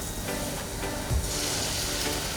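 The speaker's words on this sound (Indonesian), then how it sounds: "baru kita tuangkan telurnya ke dalam wajan" Beaten egg poured into a heated wok for a rolled omelette, giving a continuous close sizzle with a brief low bump partway through, heard alone without talk.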